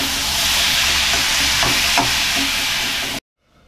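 Steady, loud sizzling of radish sautéing in a hot pan, a continuous hissing fry that cuts off abruptly near the end.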